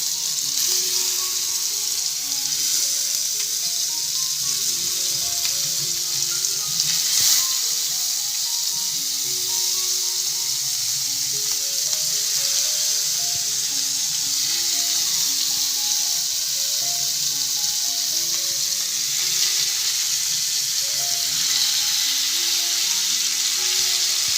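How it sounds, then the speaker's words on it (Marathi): Fish (mushi, a small shark) frying on a flat iron griddle for a Sunday biryani, a steady broad sizzle that holds loud and unbroken throughout, with faint scraping and background clatter but no talk. "आपण आता ही मुशी फ्राय करत आहोत तव्यावरती"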